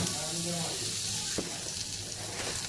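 Garlic, ginger, green chili and cumin seeds roasting in a pan give a steady close sizzle and hiss, with a brief scrape near the middle and faint background hum.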